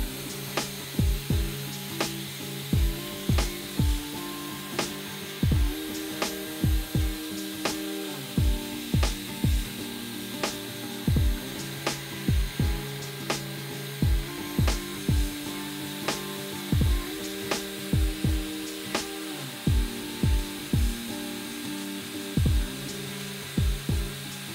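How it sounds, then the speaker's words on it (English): A Dyson Airwrap styler hums steadily while drawing hair in and curling it, with a broad whirring airflow tone and repeated sharp clicking pulses at a regular rhythm throughout, close and moderately loud. "I'll grab my hair towards the bottom and kind of assist the suction as it's going in"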